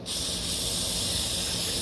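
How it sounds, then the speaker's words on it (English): Foaming cleaner sprayed liberally onto a firearm to break down carbon buildup, a continuous loud hiss held steady for nearly two seconds with no talk. "So I give it a good spray down with this. It foams up"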